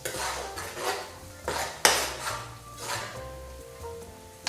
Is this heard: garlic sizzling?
yes